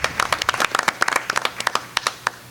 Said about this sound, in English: So a round of applause for Providence Ryan.